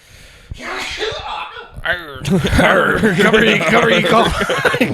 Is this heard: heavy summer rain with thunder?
no